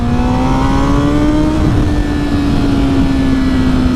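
A Honda CBR1000RR sport bike pulls hard under acceleration, a loud, close, steady engine whine climbing slowly in pitch over heavy wind rush, with no voices.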